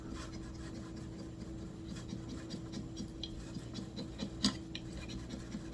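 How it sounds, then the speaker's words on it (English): A burnishing tool rubs along the thread wrap of a Berkley Lightning fishing rod, giving a steady, close, soft scraping texture with small repeated strokes and one brief sharper scrape near the end, no talk. "Now I'll take my burnishing tool, get everything even."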